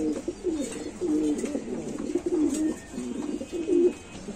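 Lahori fancy pigeons coo at a pigeon farm, with repeated low, throaty rolling coos from several birds close by and no talk.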